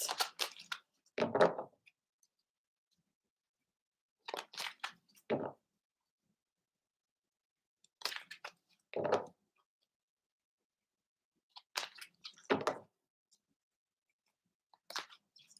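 Short bursts of cards being riffled and snapped together, repeating about every four seconds with quiet gaps between, close and fairly soft.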